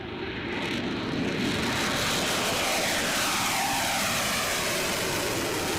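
Eurofighter Typhoon fighter jets take off from an airbase in Cyprus. A loud, steady roar of jet engines fills the whole stretch, with no pauses or voices.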